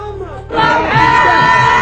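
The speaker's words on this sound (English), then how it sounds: "There's a constant refrain in this crowd." A large crowd at a rally in Libya chants and shouts in unison, loud and close. The massed voices swell suddenly after a brief quieter moment and hold steady.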